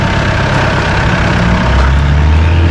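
Massey Ferguson 2E.60 compact utility tractor with synchro shuttle, its engine running at a steady, loud low idle close by, a continuous heavy rumble with no talking.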